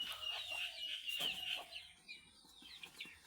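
Native chickens on a poultry farm cluck faintly, with a few soft calls scattered over a quiet background.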